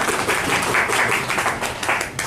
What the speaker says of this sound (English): let me give them a polite golf clap